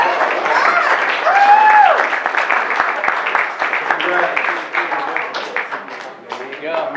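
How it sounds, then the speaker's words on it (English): An audience at a business networking event in Fort Lauderdale breaks into loud, sustained applause and clapping, with a voice speaking over the crowd at first before the clapping thins out. "Give him a round of applause."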